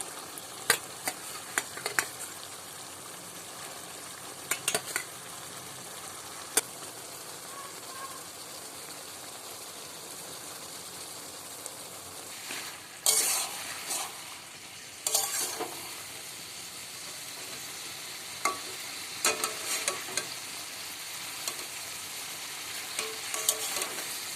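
Potatoes tossed and stirred in a frying pan with chicken stomach, a soft steady sizzle broken by intermittent scraping and clattering bursts of the spatula, close and moderately quiet.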